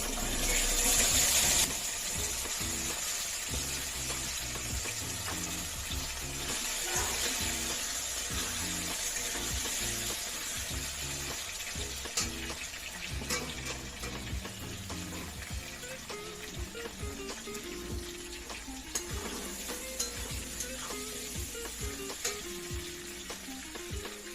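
Potatoes and mixed vegetables fry in a pan of hot oil tempered with black cumin seeds, a steady close sizzle running throughout with occasional stirring scrapes, no voices.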